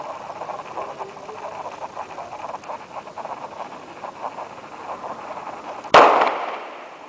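A single sharp gunshot goes off at an armor plate during a test firing, a loud close crack near the end that rings off and decays, after several seconds of low outdoor background.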